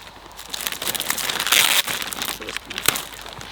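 A plastic garbage bag crinkles and rustles steadily while a new silicone mermaid tail is unboxed, swelling into a louder crunching burst midway and a sharp crackle near the end.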